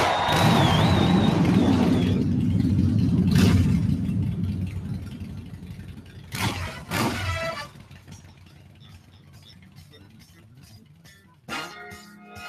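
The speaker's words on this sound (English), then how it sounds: "Drivers, start your engines!" Kart engines rev and rumble at the start of a Mario Kart race, a loud low roar with a rising electronic tone early on, then quieter rumbling punctuated by a few sharp bursts.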